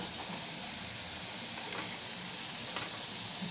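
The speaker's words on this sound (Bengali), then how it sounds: "লাল লাল করে এগুলোকে ভেজে নিতে হবে" Potato pieces frying in hot oil in a pan during home cooking of a sour spinach dish, giving a steady close sizzle and crackle throughout with occasional brief pops and stirring, no talk.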